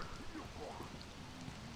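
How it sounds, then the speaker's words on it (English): Rain falls steadily in the video game Spore, a continuous even hiss of drops on a surface that stays at a constant level throughout. "It's raining."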